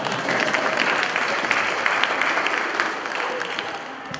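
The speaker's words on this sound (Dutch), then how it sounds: "Dus daarvoor applaus voor de jury." An audience at a community baking competition gives the jury a sustained round of clapping, a dense, steady patter of many hands that fades slightly toward the end.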